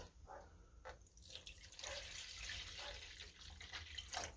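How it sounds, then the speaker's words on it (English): Liquid being poured into a one-cup measure in a home kitchen while making crockpot chicken chili: a faint, quiet trickling and splashing that builds over a few seconds, with no talking. "I just need to pour in literally 1 cup worth."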